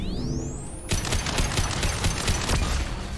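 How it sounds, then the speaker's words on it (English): Flashbangs burst in a Mass Effect 2 firefight: a rising whine gives way to a loud, dense string of rapid cracking blasts that continues to the end. "Watch out, flashbangs!"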